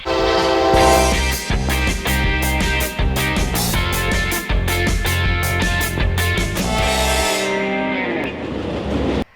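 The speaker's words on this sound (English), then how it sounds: "my HO scale layout featuring the Missouri-Kansas-Texas Railroad" An HO scale model train of the Missouri-Kansas-Texas Railroad runs on a layout, with a loud, sustained horn blast sounding in repeated bursts over rhythmic, rumbling track noise.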